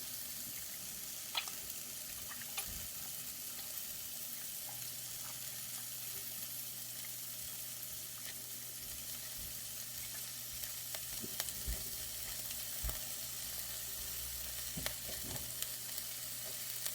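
Hands break up whole Roma tomatoes in a pan, giving a soft steady sizzle with wet squelches and a few sharper clicks and taps against the pan, close and fairly quiet, with no voices.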